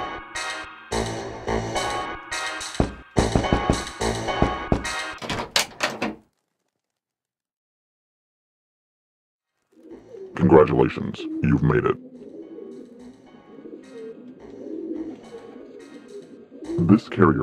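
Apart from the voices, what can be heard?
carrier pigeon cooing in the video game Jazzpunk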